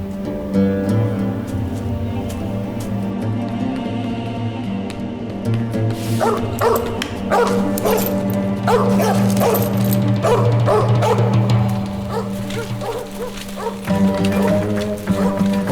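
A dog barks and yips repeatedly in a sharp, excited burst near the middle, over a steady low musical drone and some movement noise, with the barking sounding close and loud.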